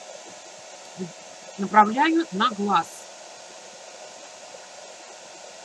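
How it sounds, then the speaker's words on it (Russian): A hair dryer switched to its hot setting, aimed at a Paola Reina doll's eye during an eye replacement. It gives a steady, even whoosh for the whole stretch while someone talks over it. "я включаю фен на горячий"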